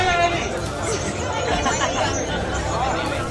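Dense crowd chatter fills a packed Goa nightclub, with many overlapping voices forming a steady, loud hubbub close by and no single speaker standing out.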